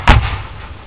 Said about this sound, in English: Fire sort of like a machine gun fire here.